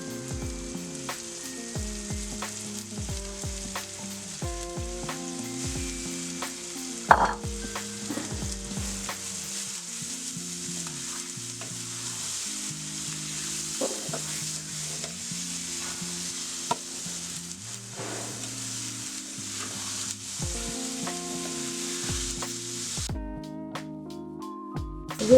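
Minced meat sizzles steadily in a hot pan for a Bengali stuffed pointed gourd dish. Repeated scraping and clinking of a spoon stirring it sit close over the constant frying hiss.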